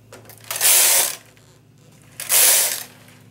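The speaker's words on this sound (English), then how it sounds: "I'm going to knit 2 rows." A knitting machine carriage is pushed across for two rows, each pass a loud, close mechanical whoosh and rattle lasting about half a second, with a quiet gap between them.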